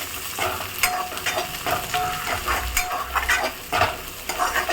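Onions sauté in oil for a kuzhambu curry, with an even, close sizzle broken by repeated scraping stirs of a spoon against the pan and no voices.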